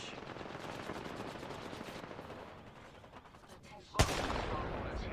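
Video-game gunfire: a dense rattle of rapid shots runs for a couple of seconds, then fades to a quieter stretch before one sharp, loud blast and a sustained burst of fire afterward.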